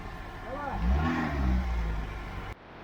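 Off-road jeep engine revving hard as it climbs over a fallen birch trunk on a forest track of streams and bogs, a loud close rising and falling roar with voices talking over it, cut off abruptly near the end.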